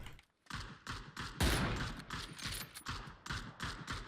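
Rapid bursts of gunfire from the battle royale video game PUBG, loud and close, with repeated broadband shots and rattling volleys running through the whole stretch without talk.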